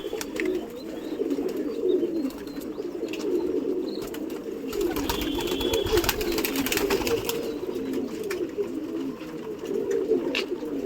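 Pigeons cooing in a loft as they jump down to feed: a steady bed of low, murmuring coos from several birds close by, with faint flutters and shuffling and a brief louder rustle in the middle.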